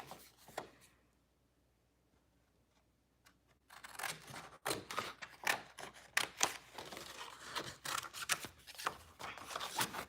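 Scissors snip through material for an Easter bunny craft, a quiet start followed by a run of close, crisp cutting clicks and rustles.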